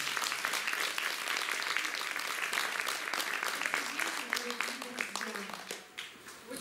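Applause from the audience at a children's concert choir event fills the room, a dense sustained patter of many hands that eases slightly toward the end, with faint voices underneath.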